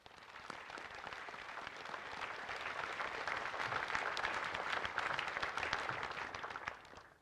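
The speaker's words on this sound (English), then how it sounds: "A round of applause for them." Sustained, fairly faint applause from a crowd at the 84th anniversary Pearl Harbor remembrance ceremony, a dense wash of clapping that builds slightly and then fades out.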